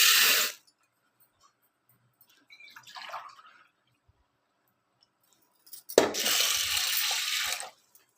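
Water poured from a glass into toor dal for sambar, two separate splashing pours with a quieter trickle between, close and clear against silence.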